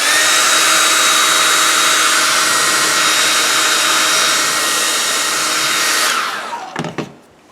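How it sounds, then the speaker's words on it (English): A hair dryer blows steadily and loudly on fresh paint to set the color, a constant close whooshing whir that runs for several seconds before winding down and switching off. "Now I'm going to use my trusty hairdryer here for a second."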